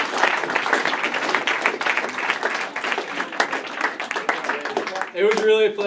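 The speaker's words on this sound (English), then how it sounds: "you guys can give me a round of applause now if you want." An audience at a winter intro day event breaks into sustained, dense applause, many hands clapping steadily for several seconds before a voice starts speaking at the end.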